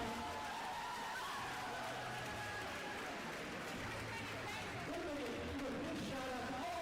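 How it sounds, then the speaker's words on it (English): At a roller derby bout, a crowd in a large venue applauds and cheers the officials, a continuous wash of clapping mixed with chatter and shouting under amplified announcer talk. "Please give them a big round of applause."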